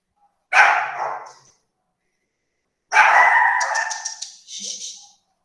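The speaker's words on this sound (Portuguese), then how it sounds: "aqui os cachorros estão latindo." Dogs bark in two separate bursts from a distance, each burst loud and followed by silence, in a residential area in the early evening.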